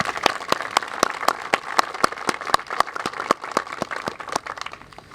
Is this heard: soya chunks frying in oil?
no